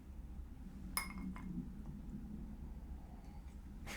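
A glass clinks once, with a bright, ringing tap followed by a few fainter light knocks, against a quiet room hum with no talking.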